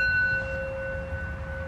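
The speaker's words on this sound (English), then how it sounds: "This is the bell to start the ritual." A ritual bell in a graveyard at night gives a single clear ring, and its bright tones hang and slowly fade over quiet background hiss.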